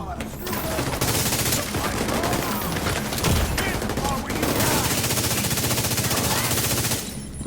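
Sustained automatic gunfire from The Division, a third-person shooter set in New York, rattles in dense bursts nearly throughout, with a brief lull midway and another near the end; someone talks faintly underneath.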